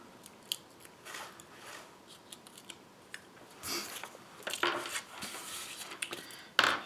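Paper being cut for a stamped card: soft snips and crisp slicing sounds, close and quiet, coming in short irregular bursts with brief pauses between them.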